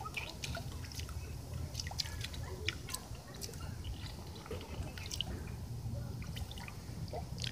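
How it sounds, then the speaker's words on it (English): A pet goose splashes puddle water with her wings at a playground, giving soft continuous dripping, trickling and sloshing sounds at low volume with occasional small splashes. "usually she swims and does that with her wings. That's how she like moves the water through her wings and everything."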